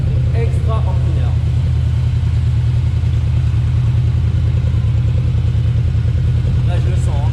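A Yamaha VMAX motorbike engine rumbles continuously up close, a heavy low throb that holds steady throughout while someone speaks now and then on top of it.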